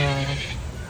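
A goat at the Jeddah mini zoo lets out a single loud, close, wavering bleat that fades after about half a second.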